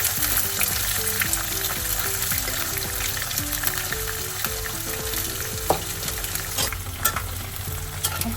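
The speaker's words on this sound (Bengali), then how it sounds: "কাঁঠালগুলো ছেড়ে দিলাম, অল্প অল্প করে সব কাঁঠালটা ছেড়ে দিচ্ছি" Jackfruit pieces fry in a pan of hot oil with a steady, dense sizzle and crackle, close and continuous, with occasional stirring scrapes and no talking.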